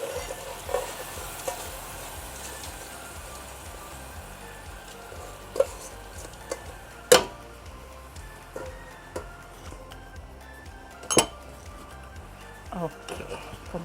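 Soft continuous scraping and a faint sizzle as glutinous rice is stir-fried in a pan for zongzi, with occasional louder knocks of the spatula against the pan and a person talking over it.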